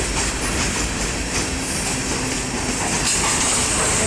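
BNSF 9023 freight train passes close by in Effingham, Illinois, with a dense steady roar of rolling wagons, faint clickety-clack and a thin wheel squeal near the end.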